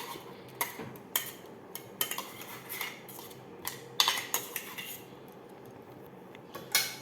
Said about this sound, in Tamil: நான் அந்த பேஸ்ட்டுங்களெல்லாம் நல்லா மிக்ஸ் பண்ணிட்டேன்